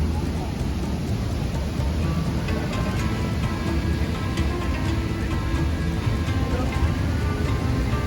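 Manavgat waterfall in Turkey, with its water rushing as a steady, loud broadband roar that carries on unbroken throughout, and a voice speaking faintly under it.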